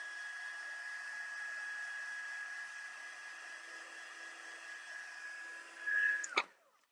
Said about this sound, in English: I'm moving the heat tool around quite a bit because I don't want to overheat anything